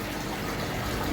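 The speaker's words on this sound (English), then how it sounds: "obviously there's water going to be coming out" Water gushes and splashes steadily out of an opened pond filter, a constant, fairly loud broadband rush with no voices.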